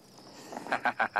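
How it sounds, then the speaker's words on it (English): Frogs call at night in the Sabi Sand bush, faint background chirring giving way to four evenly spaced, rising croaks nearby. "some beautiful frog calls"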